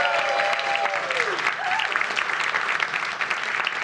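An audience at a live comedy science show claps steadily for a few seconds, a dense, even wash of applause throughout with no pause.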